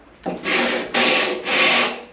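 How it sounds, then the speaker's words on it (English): Three long rasping strokes of a sanding block rubbing over wood, close and loud, each lasting about half a second with short pauses between, during construction of a Van's RV-7A kit airplane. "And I just got a sanding block."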